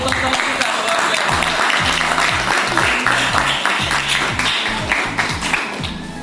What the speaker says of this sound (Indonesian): Kita kasih aplaus dulu dong untuk teman-teman kita.